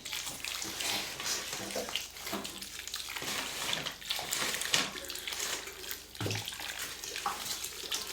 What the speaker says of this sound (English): just going to give it a good watering in.